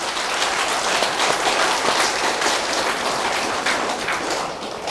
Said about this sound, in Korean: 그런 점에서 박수 한번 치십시오.